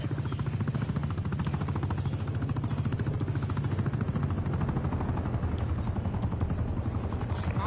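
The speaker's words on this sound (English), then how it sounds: "Hostile attack helicopter inbound." An attack helicopter in a video game approaches with a continuous, rapid rotor chop and engine drone, steady and fairly close, holding at even loudness throughout.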